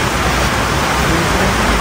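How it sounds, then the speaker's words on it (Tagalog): Dense, loud wash of heavy rain in Villasis, Pangasinan, a continuous hiss filling the scene with no break. "Ano yan, malakas ang ulan."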